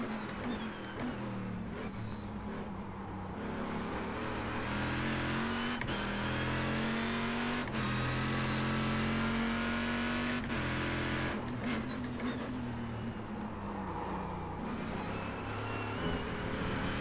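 Corvette C6R GT1 race car engine in the iRacing sim at Sebring, a loud steady drone with rising and falling pitch as it shifts and revs, continuous throughout with no talking.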